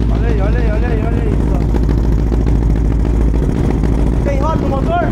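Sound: Honda CB300 two-cylinder motorcycle engine running, carburetor on throttle body

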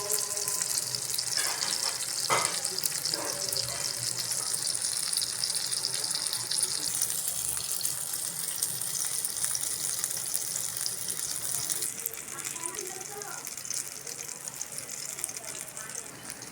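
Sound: eggplant slices frying in oil

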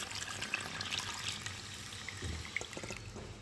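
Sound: hot water poured into cooking dal

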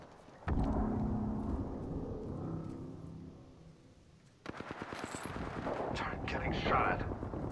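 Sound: gunfire in the Apex Legends video game

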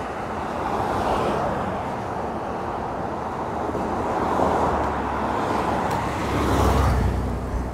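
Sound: car tires making road noise on Barton Springs Road

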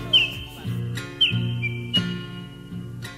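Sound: man whistling imitating a bird

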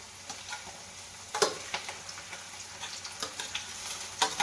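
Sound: onions and tomatoes stirred and frying for ragda chaat

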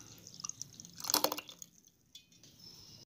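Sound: water poured into blended mango mix in a pan

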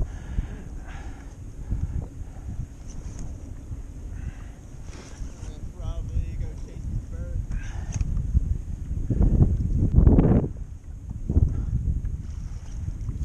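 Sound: wind blowing on the water during boat fishing

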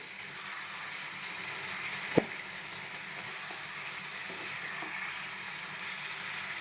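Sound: chicken frying in pan, village-style chicken fry

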